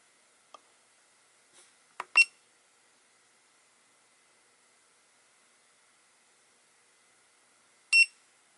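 A FNIRSI LCR-P1 component tester running a diode test gives a few short, sharp electronic beeps, a cluster near the start and one more several seconds later, with quiet gaps between them.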